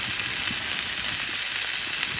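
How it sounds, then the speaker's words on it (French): Chopped onions and bell peppers frying in a pan, a steady, dense sizzle with light crackling pops that holds at an even level throughout, with no voices. "je vais laisser revenir griller ça bien"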